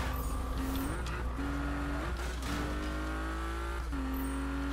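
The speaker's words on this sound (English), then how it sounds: "I'm driving the car, a Porsche." A Porsche racing in the Need for Speed video game, its engine droning loud and steady with rising pitch sweeps at each gear change, tires and road noise beneath, no talking.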